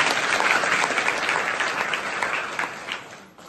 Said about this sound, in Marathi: त्यासाठी जोरदार एकदा टाळ्या वाजवा